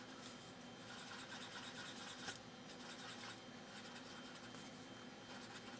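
A blending stump dampened with Gamsol rubs steadily across paper, giving a faint, continuous soft scrubbing that carries on without pause.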